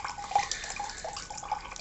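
Leftover stream water runs through a Sawyer 3-way water filter, a steady light trickle and drip of liquid filling a container, close and continuous with no talking.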